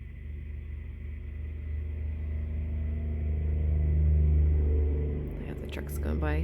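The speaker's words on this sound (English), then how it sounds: "trucks going by. I apologize for that." Trucks pass on a nearby road, a deep rumbling engine drone that swells and fades as they go by, with a whispered voice briefly audible near the end.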